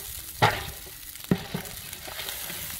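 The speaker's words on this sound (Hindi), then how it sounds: "प्याज और लहसुन को सुनहरा होने तक भून लेंगे" Onion and garlic frying in hot cooking oil in a large pot for a village-style goat recipe, a steady close sizzle with a couple of sharp stirring scrapes and clatters.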